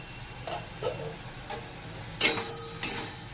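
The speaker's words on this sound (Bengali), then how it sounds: "নেড়ে নিলাম আবার কিছুক্ষণ ঠেকে রাখবো" Bitter gourd and pumpkin stirred in a frying pan, giving soft scraping clinks of a utensil against the pan over a faint sizzle, with one or two sharper scrapes near the end.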